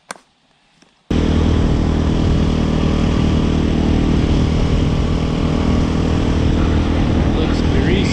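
A dirt bike engine roars loud and close under riding load after a brief quiet start with faint clicks, holding a steady, rough drone throughout.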